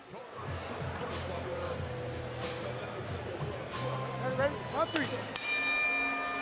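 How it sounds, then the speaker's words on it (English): A ringing bell marks the start of round three at a Bellator MMA bantamweight Grand Prix bout, clanging a few times with bright sustained tones over a commentator's voice and arena crowd murmur. "the bell, this is round number 3"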